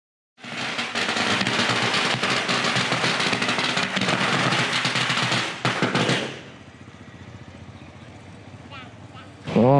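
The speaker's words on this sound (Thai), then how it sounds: "จุดประทัดเต็มเลย" Strings of firecrackers thrown into a temple firecracker furnace crackle in a long, dense, loud burst at Wat Chalong in Phuket, then trail off into crowd noise, with a final sharp bang.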